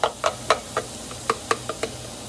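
Peppers and garlic sautéing in a pan with jerk seasoning: a utensil clacks sharply against the pan about eight times in an uneven rhythm over a soft, low sizzle.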